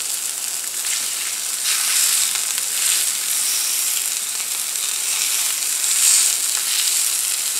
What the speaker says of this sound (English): So while that sausage is cooking,